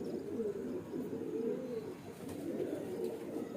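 Pigeons coo continuously in a low, rolling murmur, several domestic fancy pigeons overlapping close by at steady volume, with no talk over them.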